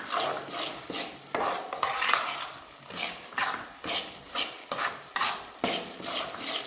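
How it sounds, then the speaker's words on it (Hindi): A spoon stirs and scrapes gram flour (besan) as it roasts over a low flame in a pan for besan barfi, steady rhythmic scraping strokes close up, with no talk. "तो आपको चमचा जो है मुसलसल चलाते रहना है।"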